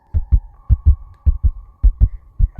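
A loud, close heartbeat effect for a horror story: paired low lub-dub thumps repeat at a steady, slightly quick pace over a faint continuous hum, with no voices.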